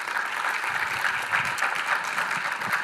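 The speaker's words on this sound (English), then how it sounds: "Everybody give him a round of applause." An audience at a startup accelerator pitch event claps in a steady, moderately loud round of applause that carries on evenly throughout the short stretch.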